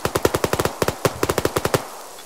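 Rapid bursts of automatic gunfire from the military shooter game Arma, about twenty close, loud shots in an uneven rhythm that stop abruptly near the end, with no talk over them.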